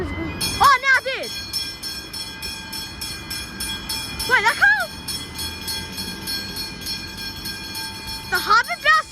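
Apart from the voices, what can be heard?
train passing level crossing, Macaulay Road, North Melbourne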